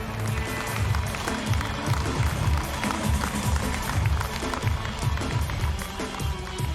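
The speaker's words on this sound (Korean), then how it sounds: "특공대 및 구조대원들에게 뜨거운 격려의 박수 부탁드리겠습니다" Sustained applause from a large outdoor audience at a national counter-terror maritime training drill, dense and steady throughout with a rumbling low-end wash and no talk.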